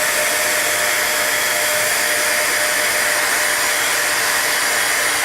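A hair dryer blows steadily at close range while drying a salt-textured watercolor card, a constant loud whooshing hum with no break and no talk.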